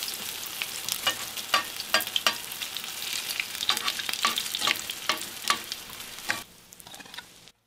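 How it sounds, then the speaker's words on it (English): Cheesy poblano cakes made from batter frying in a pan, a steady close sizzle broken by sharp crackles and pops that die away near the end, with no talk. "And these are quickly fried, so you're gonna flip them and be careful"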